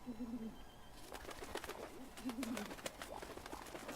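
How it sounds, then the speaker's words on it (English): A pigeon in the video game Stacking gives soft, low coos, one phrase at the start and another midway, over a continuous game background of bright ticking and clattering sounds. "And the pigeon confuses the bowl of soup with a nest."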